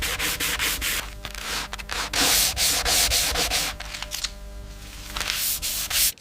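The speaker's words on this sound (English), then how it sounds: "Fine sanding in consistent directions creates a uniform grain" Fine abrasive paper rubbed across the steel slide of a 1927 TT pistol, a run of rapid, close rasping strokes in a steady back-and-forth rhythm with brief pauses between passes.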